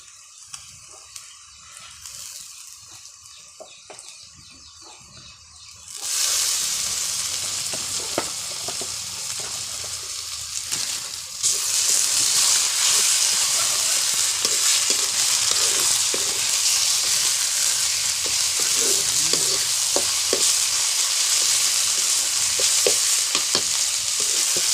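Chopped onion sizzling in a pan with ginger-garlic paste, a soft hiss that jumps to a loud, dense crackle once the paste goes in, with steady stirring scrapes throughout.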